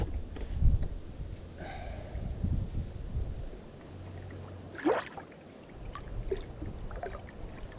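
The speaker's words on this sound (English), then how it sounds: "I think we're just going to paddle right through it" Canoe paddled through a log jam on the Perdido River: soft water swishes and low knocks come close up, with a brief splash or scrape midway, over faint outdoor wind.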